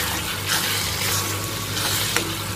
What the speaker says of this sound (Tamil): ஒரு கிலோவுக்கு நம்ம வந்து ஒரு 4 ஆனியன் போட்டிருக்கோம் ஸோ நல்லா டீப் ஃப்ரை ஆகிற வரைக்கும் நல்லா வதக்குங்க